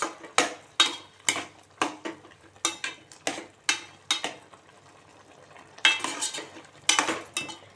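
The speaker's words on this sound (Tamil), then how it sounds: "இதை நல்லா நம்ம கலந்து விட்டுருவோம்." A spoon scraping and clinking against a pot while coconut milk rasam is stirred, in a series of sharp, close metallic strikes in an irregular rhythm, briefly pausing before a few louder scrapes.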